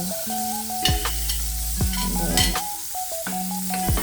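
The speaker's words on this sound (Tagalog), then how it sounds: "At lagay ko na yung bawang." Garlic hits hot oil in a frying pan while cooking sautéed squid with bell pepper, giving a loud, steady sizzle punctuated by metallic stirring scrapes, close up with no voices.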